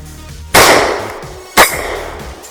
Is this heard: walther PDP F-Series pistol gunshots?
yes